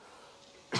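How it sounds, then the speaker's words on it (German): A single short, close cough bursts out abruptly after near silence and is cut off almost at once. "Keine Sorge, ich huste nur ein bisschen"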